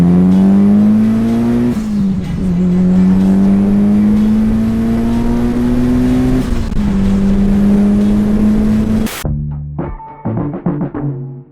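A Mitsubishi Lancer Evo tuned by RS Kanaya revs loudly and close while driving, its engine note climbing steadily through gears before cutting sharply to a few uneven crackling bursts.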